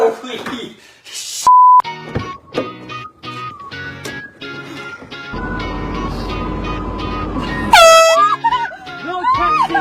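A vehicle horn blares in several short and long blasts amid excited shouting and traffic noise, loud and close, with voices talking over and between the honks.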